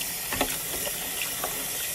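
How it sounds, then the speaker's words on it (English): Hot water pours steadily into a mixture with a soft, hissing splash, close and continuous for a couple of seconds. "And I'm going to add water to it."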